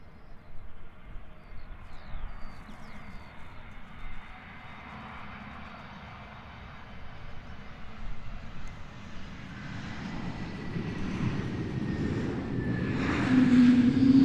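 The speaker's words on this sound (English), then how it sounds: "Lovely howl from those Neo engines" An airliner with Neo engines on short final into Luton Airport, a distant jet whine and rumble that swells steadily louder as it approaches over steady background noise, with no voices.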